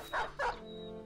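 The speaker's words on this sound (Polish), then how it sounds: "Kolejny pies." Two quick dog barks from the Battle Brothers video game sound close together near the start, followed by a faint steady tone.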